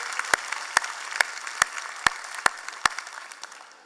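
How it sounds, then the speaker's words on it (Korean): During a Sunday church service, a handful of distinct, sharp claps ring out at a steady, even pace over a quiet room, with no talking. "우리 하나님께 영광의 박수 드리겠습니다."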